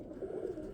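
Racing roller pigeons in a loft give a soft, continuous cooing that stays close and steady for under a second, with no talk over it.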